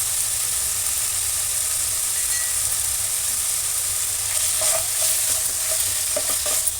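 Ground cashew paste with Byadgi chilli powder frying in a pan for chicken ghee roast, a steady close sizzle and hiss with soft stirring scrapes that grow more frequent toward the end.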